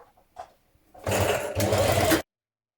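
A sewing machine stitches a 1 cm shoulder seam joining a tunic's front and back, running steadily for just over a second in two close, loud bursts after a few soft clicks, then stopping dead.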